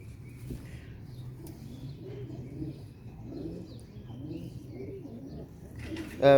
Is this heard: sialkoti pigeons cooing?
yes